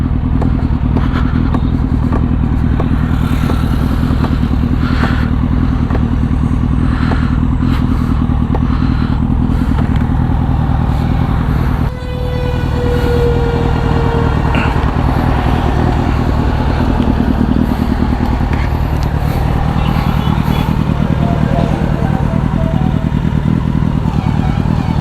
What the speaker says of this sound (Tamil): வண்டி பாருங்க, டக்கு டக்கு டக்குன்னு சவுண்டு கேட்குது பாருங்க.